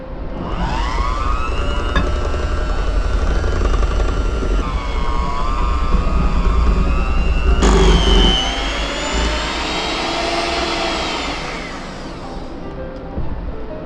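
An electric mixer whirs loud and steady, blending cake batter for a layered cannoli cake as milk and dry ingredients are added in turns, its motor pitch rising and shifting partway through before easing off toward the end.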